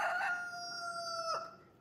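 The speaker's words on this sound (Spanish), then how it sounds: "Los gallos cantaron al rayar el sol." A rooster crows at sunrise, one clear crow heard from a moderate distance, then fading.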